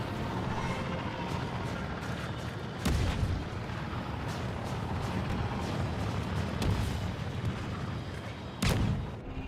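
Blaster fire from droids shooting at a ship in Star Wars Battlefront II, a dense, continuous rumble of weapon shots and booms with two sharper bursts standing out, loud and close throughout.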